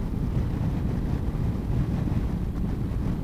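Honda ST1100 motorcycle engine running steadily while riding in strong gusty wind, a smooth low drone buried under heavy continuous wind buffeting on the microphone, with no voices.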